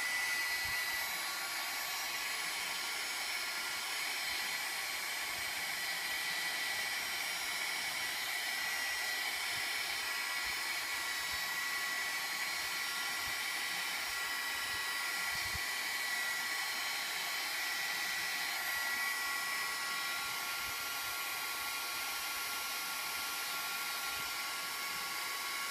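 A heat tool blows steadily while embossing a handmade Mother's Day card, a loud continuous whooshing whine with a faint high electric tone that holds at an even level throughout, with no talking.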